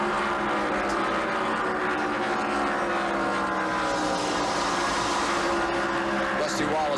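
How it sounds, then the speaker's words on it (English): Stock cars racing at the 1989 Miller High Life 400 NASCAR race, a continuous loud engine roar with shifting pitch from passing cars, steady throughout with no break. "Kyle trying to pass Dale Earnhardt for position"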